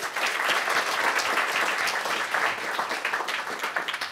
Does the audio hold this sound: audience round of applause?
yes